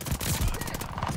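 Sustained automatic fire from the new assault rifle in Call of Duty: Vanguard, a steady rapid stream of loud shots running through the whole moment with no pauses.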